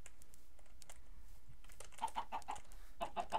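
Chickens in a survival video game cluck in short, soft bursts, faint and fairly close, with light clicking between calls and no talk.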